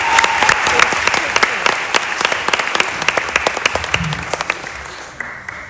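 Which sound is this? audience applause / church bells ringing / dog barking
audience applause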